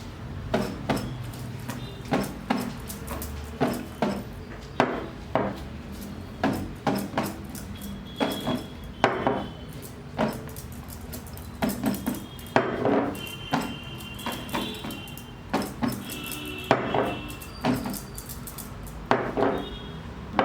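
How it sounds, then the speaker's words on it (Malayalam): French fries tossed with masala inside a closed bowl rattle and clatter in quick, uneven bursts, a steady run of close, hard knocks and scrapes against the bowl that lasts throughout. "ഇനി നമുക്ക് ഇതിങ്ങനെ അടച്ചു വെക്കുക ബൗള്. എന്നിട്ട് നമുക്ക് മിക്സ് ചെയ്യാം."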